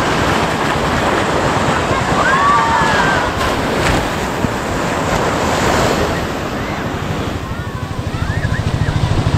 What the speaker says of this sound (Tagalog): Maalon ngayon, maalon.